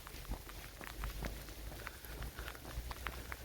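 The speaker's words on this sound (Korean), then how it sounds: "지금 옷에 비가 떨어지는 소리가 좀 들리죠." Raindrops patter lightly on outdoor clothing during a dawn walk, a faint, dense ticking of soft irregular taps close to the body.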